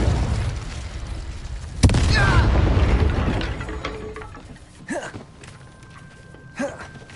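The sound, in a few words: Confringo blasting spell explosion in Harry Potter video game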